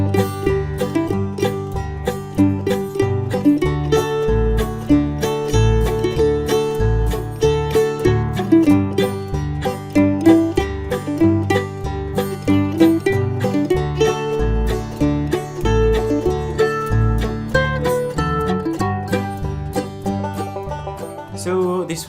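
A mandolin plays a simple, bouncy melody in quick plucked notes over a steady rhythmic backing, loud and continuous throughout.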